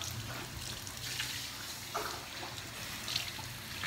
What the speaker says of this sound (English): And now, we're gonna wash our face.